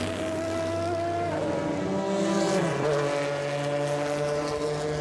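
A damaged Le Mans race car, running at the 2003 24-hour race, drives back toward the pits, its engine droning steadily with shifting pitch as it passes by.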